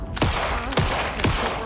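Guns fire in the video game Alan Wake 2, three loud, evenly spaced shots about half a second apart over a dense, noisy background.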